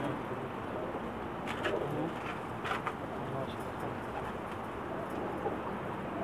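Pakistani pigeons coo softly behind a steady, dense wash of hiss, with faint scattered calls standing out now and then, while someone talks nearby.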